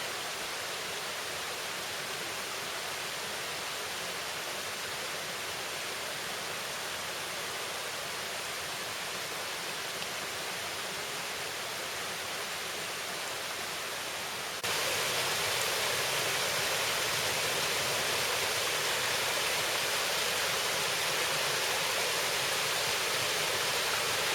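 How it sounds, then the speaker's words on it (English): Hatch Creek, a stream along the Appalachian Trail near the New York–Connecticut border, rushes in a steady, full broadband wash that holds close and unbroken, growing slightly louder partway through. "This is a little video of Hatch Creek."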